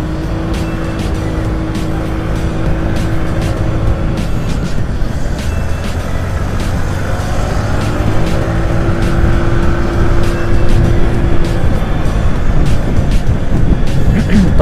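Suzuki Skywave 125 scooter accelerating on a night ride, engine note rising through the revs in two pulls with a brief dip between, close and loud over road and wind noise.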